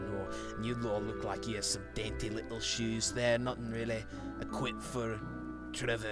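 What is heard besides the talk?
None of the usual background noises is heard.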